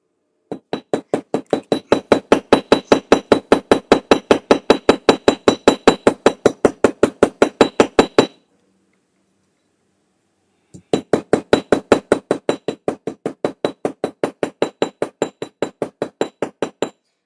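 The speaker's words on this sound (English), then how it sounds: "the rounded side of the hammer helps roll the rivet over into the mushroom" The rounded face of a small jewelry hammer taps a rivet to roll it over into a mushroom head: a rapid, even run of sharp metallic strikes, a brief pause, then another steady burst, close and clear.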